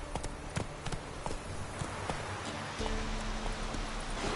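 Roach the horse gallops in The Witcher 3 video game, giving a steady clip-clop of hooves over a constant rushing background, close and continuous with no talking.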